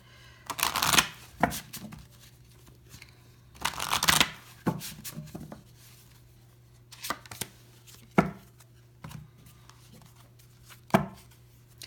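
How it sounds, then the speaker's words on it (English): Oracle cards are shuffled in short, crisp bursts of riffling and tapping, spaced unevenly across a quiet room with a faint steady hum beneath, and no talking. "So I'm going to pull the cards for you now"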